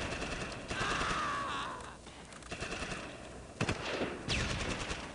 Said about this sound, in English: we'll shoot at them